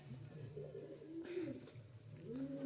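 A pet pigeon suffering from a cold coos softly and repeatedly in low rolling phrases, close by but faint, with a brief rustle in the middle.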